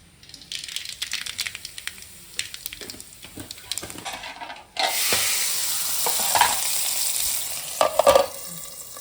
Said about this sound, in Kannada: ಗುಜ್ಜದ ಕಜಿಪುಗು ಒಗ್ಗರಣೆ ಪಾಡ್ದಾಂಡಿ ಸರಿ